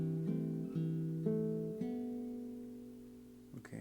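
A classical guitar playing measure 2 of Leo Brouwer's Un Dia de Noviembre, a few slow plucked notes over a held bass G that ring and fade, soft and close, followed by a faint brief rustle.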